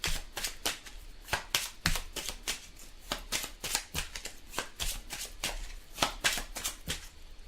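Tarot cards are shuffled by hand in a steady run of crisp riffling flicks, each burst close and distinct, repeating rapidly without pause and with no talking.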